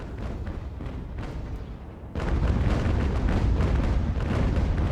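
Sailing warships trade cannon fire in the naval strategy game Ultimate Admiral: Age of Sail, scattered distant booms giving way to a loud, continuous rumble of broadsides and explosions.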